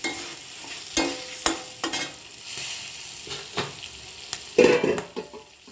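A tempering sizzles in a pan for mango coconut chutney, with a crackling fry broken by sharp pops and the clatter of a spoon stirring, loud and close, with no talk.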